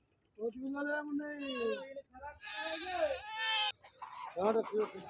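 Several goats bleat one after another at a weekly Friday livestock market in Husnabad, loud and close, their wavering cries overlapping with a busy crowd murmuring in the background.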